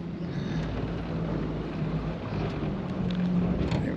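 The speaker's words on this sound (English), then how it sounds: "Oh, it's all windy." Wind buffets the microphone in a continuous low rumble and roar at Cachuma Lake, steady throughout with no other clear sounds.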